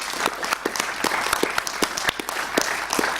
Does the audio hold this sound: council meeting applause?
yes